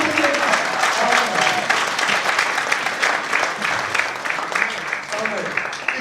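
A church congregation at a 2013 convention applauds steadily and loudly throughout, a dense wash of clapping with a few voices mixed in.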